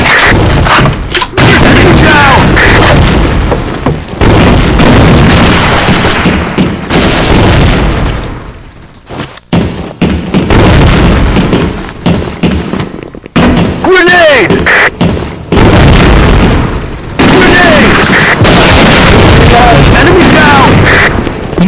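In an online shooter clan match on the Industry Town map, loud booming grenade blasts and bursts of gunfire erupt repeatedly while players shout and talk over the action.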